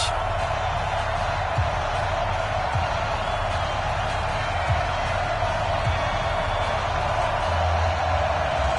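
Steady stadium crowd roar from an EA Sports NFL football game, Green Bay Packers against Washington Redskins, a constant dense wash of cheering with faint thuds scattered through and no clear peaks.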